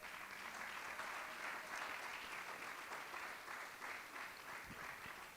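Church congregation applauding together during a sermon, a steady dense wash of clapping held at an even level throughout, with no voices over it.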